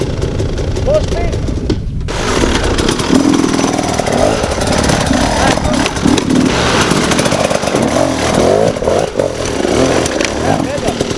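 Enduro motorcycle engine revving hard under throttle during off-road riding coaching, a loud, continuous buzzing roar rising and falling, close by, with a voice talking over it.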